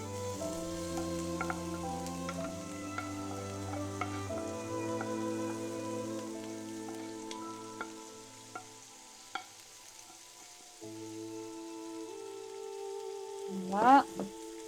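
Shrimp, onions and potatoes frying in oil, a quiet continuous sizzle with steady tonal hum in the background and a brief clatter near the end.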